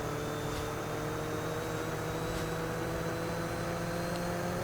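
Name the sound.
lawn mower engine in Roblox video game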